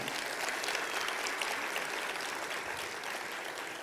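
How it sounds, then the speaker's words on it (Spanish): A church congregation applauds for the Lord during a service at Templo El Calvario, a steady dense wash of many hands clapping together, moderately distant and sustained throughout without any speech over it. "ese aplauso para el Señor"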